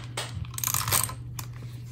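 A tape runner pressing tape onto a planner page, a close, soft series of quick clicks and rasping scrapes over a low steady hum.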